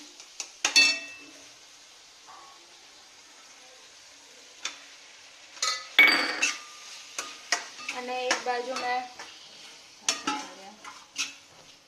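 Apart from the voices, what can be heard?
stirring and frying green turmeric vegetable dish in pan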